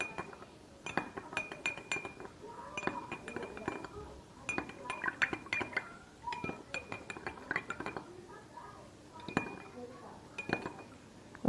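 A metal spoon stirs sugar into cold water in a glass, making repeated bright clinks and taps against the glass in uneven bursts, close by, with a voice speaking underneath.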